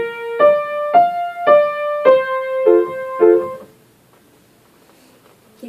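A piano plays a Suzuki-method chord switch exercise: about seven distinct struck chords, evenly spaced and moderately loud, alternating between two shapes before fading into silence.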